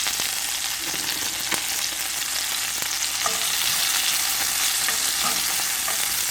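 Diced onions with a little salt frying in a pan for burgers, a steady loud sizzle throughout with occasional stirring and scraping sounds close by, no voices.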